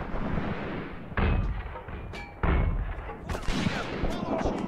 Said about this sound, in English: And I also hear fire from over here.